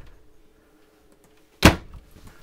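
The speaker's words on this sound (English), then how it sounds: "There is a sliding pocket door if you want to seal off the bedroom" A sliding pocket door inside a 2011 Elk Ridge 27 RLSS RV travel trailer closes with a single sharp, loud thud after a quiet stretch, followed by a brief faint rattle.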